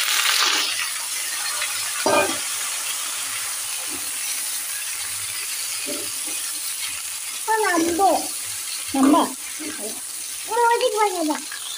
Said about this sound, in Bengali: মোহনা কোলে হচ্ছে পেঁয়াজ ভাজি করছি, সরষের তেল